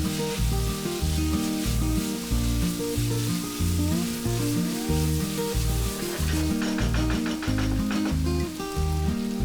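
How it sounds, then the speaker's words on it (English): Sauces and black pepper fry in a pan for restaurant-style chicken egg noodles, giving a loud, steady sizzle throughout, with stirring scrapes and bright crackles over a background hum. "half tablespoon white vinegar, half teaspoon black pepper powder, and then fry it for about 2 minutes"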